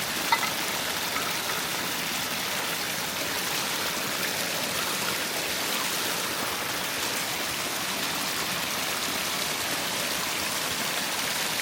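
A stream of clean water in the remote wilderness flows with a constant, full hiss and rush, steady and close throughout, with no voices.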